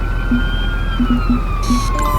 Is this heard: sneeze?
no